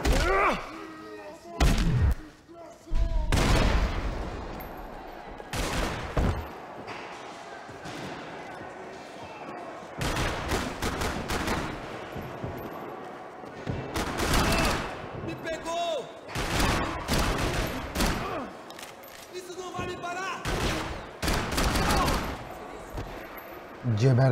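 Gunshots in the video game Max Payne 3 during a police station shootout, sharp loud bursts scattered through the clip with a few clustered volleys, mixed with game noise and someone talking.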